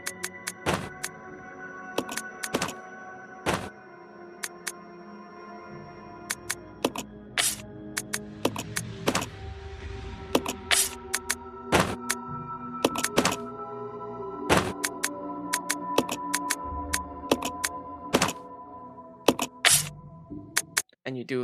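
Repeated reloading of weapons in the video game Resident Evil 0 sounds as a busy series of sharp mechanical clicks, thunks and menu clacks, with a voice talking over some of them.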